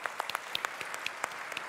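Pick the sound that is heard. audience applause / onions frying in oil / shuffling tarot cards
audience applause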